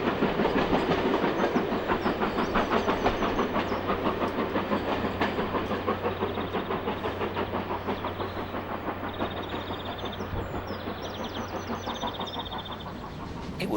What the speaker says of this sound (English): There's nothing like a powerful two-cylinder engine for making all the right noises.